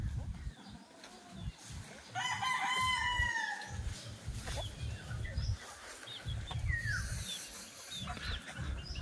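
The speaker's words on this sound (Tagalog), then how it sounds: "Ayan ay kahit saan ka pumwesto may manok." Chickens on a farm in Batangas City, with a rooster crowing loudly and nearby birds clucking over a busy, continuous flock murmur that runs throughout.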